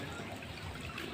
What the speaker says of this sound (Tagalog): Ito ilog.